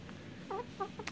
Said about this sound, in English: Okay, here's our favorite little chicken.